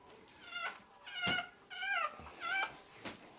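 A small fluffy puppy yaps and whimpers in a run of four or five short, high, quavering yips spaced about half a second apart, fairly close but not loud.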